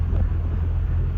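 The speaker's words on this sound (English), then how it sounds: "This is an all day or all afternoon squall that we've had" Strong squall wind of about 35 knots buffeting a sailing yacht at sea, a constant loud low roar with steady gusting rumble and no talk.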